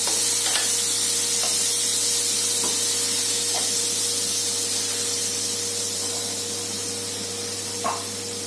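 Butter sizzles on a hot tawa for a grilled sandwich as a steady, loud hiss with a low hum underneath and a few faint ticks and clicks scattered through it, no voices.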